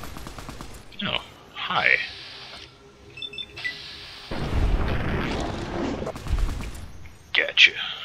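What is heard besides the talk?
gunshots in video game Fallout 3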